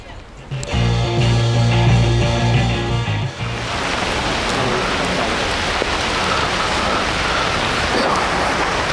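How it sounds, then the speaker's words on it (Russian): Rain falls over the fortress of Derbent, a dense, steady hiss of drops close by that continues throughout, with a tonal hum and voice-like sounds layered in during the first few seconds. "А это сверху идет дождь"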